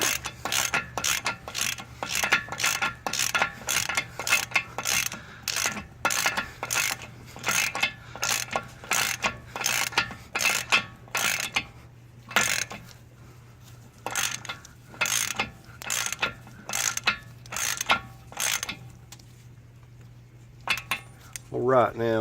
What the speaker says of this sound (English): I've got our 32. A little smaller ratchet.